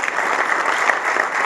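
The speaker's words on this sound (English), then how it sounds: "Can we give a round of applause once again?" An audience at a Bengaluru tech event applauds after a logo unveiling, a steady, fairly loud wash of clapping throughout.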